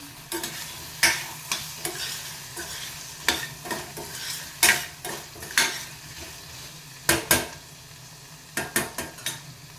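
Spoon stirring cooked onion and ridge gourd curry in a pan, with a steady sizzle of frying underneath and repeated sharp scrapes and clinks of utensil against metal at irregular intervals, close and clear with no talking.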